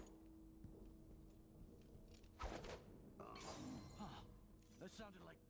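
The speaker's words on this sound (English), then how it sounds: "That sounded like broken glass." Glass shattering in Dishonored 2, a sharp close crash followed by a burst of tinkling shards, with a voice talking before it.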